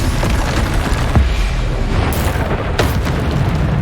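A Bombarda explosion spell from the Hogwarts Legacy video game goes off as a series of deep booms and sharp bursts amid rumbling battle noise.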